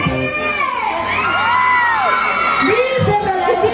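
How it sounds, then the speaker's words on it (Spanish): A festival crowd of women at a Huaylash dance celebration in Huancán shouts and cheers loudly, with high whoops and yells rising together over a dense wall of crowd noise. "¡Un grito a las mujeres!"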